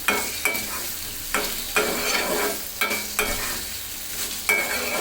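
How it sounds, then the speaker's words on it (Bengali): Dried fish fries with garlic and onion in a pan, sizzling, with a spatula stirring and scraping in regular strokes about once a second, no voices present. "ছুটকিটাও রসুন পেঁয়াজ সব কিছুর সাথে একটু ভালো মতো কষিয়ে নেব"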